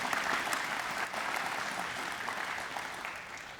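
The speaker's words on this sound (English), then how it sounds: "please a round of applause for Dee Dee for the national anthem" Applause for the singer of the national anthem at a Vietnam-era Air Force awards ceremony, a fairly distant crowd clapping steadily and tapering slightly toward the end.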